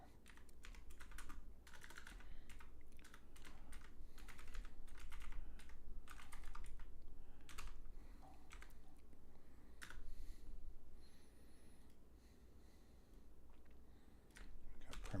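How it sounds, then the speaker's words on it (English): Steady clatter of typing on a computer keyboard during a live brainstorming session, with dense, irregular key clicks and occasional heavier strokes continuing close and alone for the whole stretch. "I have a little bit of typing to do off screen"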